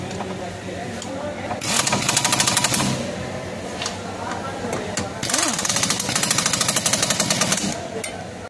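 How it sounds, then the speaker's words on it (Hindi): Hub bolts are tightened on a Maruti Swift during a wheel bearing replacement, with two loud rattling bursts from a power impact wrench, each lasting about a second or more, while someone talks throughout. "अब फिर से हम चारों बोल्ट को टाइट कर देंगे"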